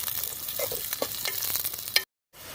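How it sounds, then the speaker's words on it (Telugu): Green chillies and chopped onion sizzle and fry in hot oil, a steady close crackle with stirring scrapes throughout, then a brief drop to silence near the end. "ఆయిల్ అయితే వేడైందండి. పచ్చిమిర్చి అలానే ఆనియన్ వేసాను."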